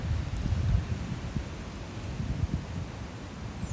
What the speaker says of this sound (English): It's nice and windy here